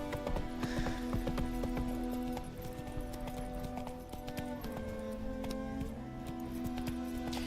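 The horse Roach trots along in The Witcher 3, with steady, rhythmic clip-clop hoofbeats and a whinny over a sustained game music drone, with no talk over it.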